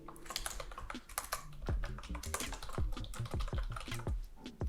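Rapid clacking of computer keyboard keys in uneven bursts, close and clear, with no voices.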